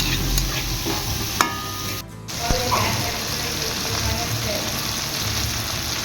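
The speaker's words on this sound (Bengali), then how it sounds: "সমস্ত সবজির উপরই একটু লবণ দিয়ে আমি ভাজছি" Vegetables fry with salt in a pan, a steady sizzle running throughout with a few sharp clinks of a utensil, and a brief drop in the noise near the middle.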